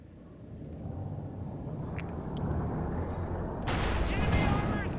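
Artillery barrage in the Company of Heroes 2 strategy game: dense, continuous rumbling explosions that swell louder toward the end, with a commentator's voice talking over the booms.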